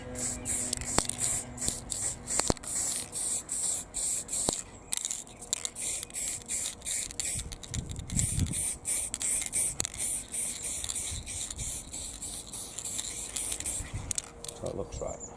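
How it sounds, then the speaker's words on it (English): Aerosol spray paint can hissing in long, steady bursts as graffiti is sprayed onto a wall, the can moved sideways; close and fairly loud, with brief pauses and occasional rattles between passes. "So we're getting that nice spray going down."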